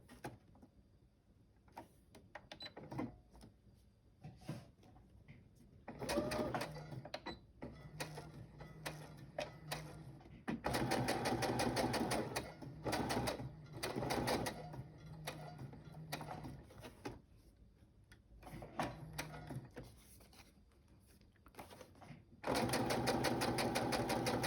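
A sewing machine stitches a tab onto a handmade journal in several bursts of close, rattling whir separated by pauses with light handling noises.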